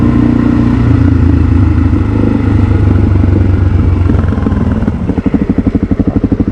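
A Suzuki DR motorcycle engine rumbles loudly and steadily up close, its exhaust note turning into a pulsing, chugging beat near the end.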